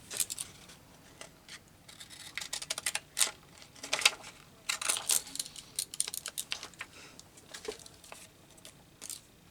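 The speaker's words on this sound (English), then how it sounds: "These are decal scissors." Small decal scissors snip through paper in quick, irregular bursts of crisp close-up clicks and cuts, quiet and alone with no speech.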